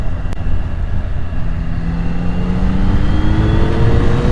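A 2025 Yamaha R9 sportsbike engine pulls hard in fourth gear, its loud, steady tone climbing smoothly in pitch as it accelerates, with no voices over it.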